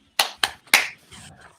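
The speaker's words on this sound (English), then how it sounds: "He's clapping." A person clapping hands three times in quick succession, sharp and close, followed by faint softer sounds.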